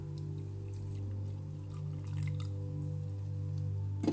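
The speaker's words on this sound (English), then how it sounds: "I'll put just a little bit of water, like maybe 1/3 of the cup." Hot water trickles and drips softly into a cup over loose tea leaves, a quiet, close pour over a steady low background hum.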